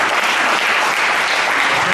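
An audience at an excellence day ceremony applauds, sending dense, even clapping from many hands without a pause. It sounds loud and close throughout, with a faint murmur of voices underneath.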